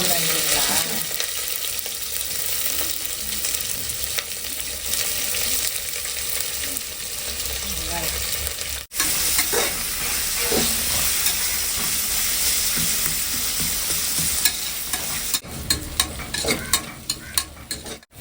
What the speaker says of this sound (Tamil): வெங்காயம் நல்லா வதங்கிடுச்சுப்பா